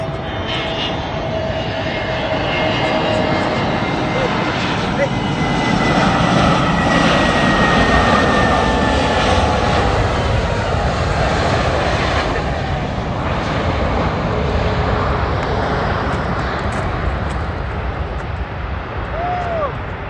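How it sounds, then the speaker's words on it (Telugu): Airplane landing at Bhogapuram International Airport, a steady loud engine roar with broadband rumble and whine that holds throughout, swelling slightly mid-way, with faint voices underneath. "భోగాపురం అంతర్జాతీయ విమానాశ్రయంలో ఫస్ట్ విమానం ల్యాండింగ్ విజయవంతం"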